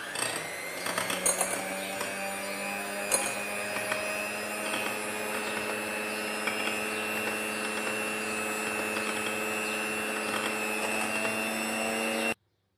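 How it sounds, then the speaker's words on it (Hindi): An electric beater whips cream for a three-ingredient strawberry ice cream, running as a steady loud mechanical whine and hum, with a few clicks at the start, before cutting off abruptly. "अब हम क्रीम लेंगे और इसको अच्छी तरह बीट करना है जब तक ये फ्लफ़ी ना हो जाए"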